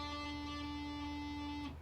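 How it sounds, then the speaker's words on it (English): A guitar note is picked while the finger slides up the fretboard into pitch, sounding as a quiet sustained tone that bends at the very end, heard alone with no talking. "you're basically sliding up into the note while picking the string and applying pressure at the same time"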